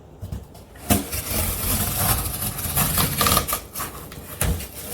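A blade slicing through cardboard along a straight edge while making a custom shipping box, heard as a close, steady scraping cut that runs for several seconds with short sharp bursts of friction.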